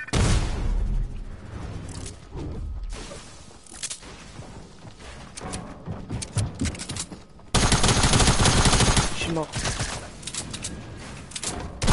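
Sustained video game gunfire with bursts of rapid automatic shots and sharp cracks, loud and dense throughout, swelling into a heavier barrage in the final seconds.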